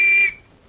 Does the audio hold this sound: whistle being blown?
yes